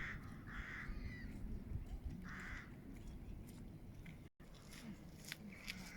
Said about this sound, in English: The only real noise this morning is the seagulls.